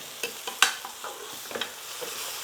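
Meat being turned and seared with masala in a pot for nali nihari, made in a pressure cooker: a faint sizzle runs under several distinct scrapes and clacks of a spoon, spaced irregularly, with no talking.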